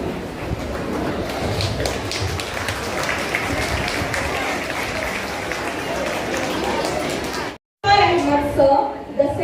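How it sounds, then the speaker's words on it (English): Audience applause at a school's new campus inauguration, a dense, sustained wash of clapping across a hall that holds steady for several seconds before cutting off, with a brief burst of crowd noise after. "Dear audience, please give a big round of applause."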